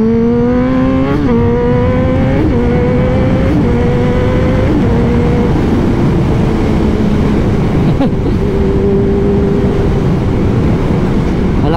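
A Kawasaki Z1000 motorcycle revs loudly and close by through its exhaust, rising in pitch in repeated gear-like steps and then settling into a sustained roar, with no talk over it.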